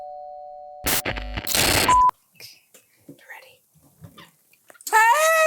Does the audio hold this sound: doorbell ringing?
yes